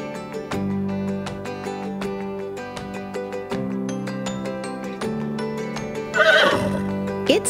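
A horse neigh from a Fisher-Price learning toy or game plays over a bouncy tonal music loop, a loud whinny bursting in near the end alongside steady clip-clop-like beats.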